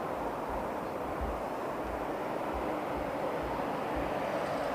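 DHL Airbus A300 departing Heathrow runway 09R, a steady broadband jet roar that holds loud and even throughout, with deep low rumble pulsing underneath and no voices.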